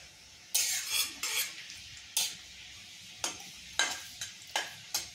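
Garlic frying in leftover pakora oil in a pan, giving soft sizzling with several sharp bursts of stirring and scraping spread across the clip, close and fairly quiet, no talking.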